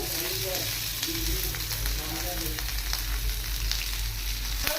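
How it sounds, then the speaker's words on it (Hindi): Poi leaf fritters fry in hot oil on a tawa with a steady, dense sizzle throughout, close and fairly loud, with a faint voice in the background. "तो देखिए गोटे बरा पकई गोटे साइड फ्राए करने।"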